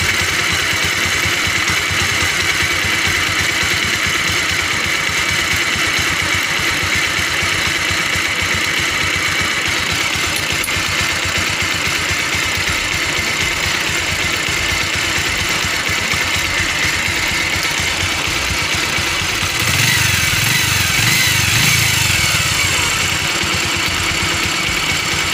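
Small engine idling steadily after a full carburetor cleaning and tune-up, a constant even drone that stays level throughout, with a brief rise in the low rumble near the end.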